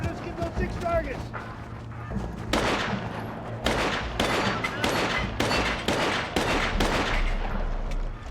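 Rapid gunfire from an M9 pistol and an M4 rifle at targets during military training, a dense string of sharp shots cracking in quick succession, some in fast bursts, with voices underneath.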